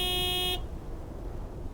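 A truck horn gives one loud, steady honk lasting about half a second, then cuts off abruptly, leaving only faint background noise.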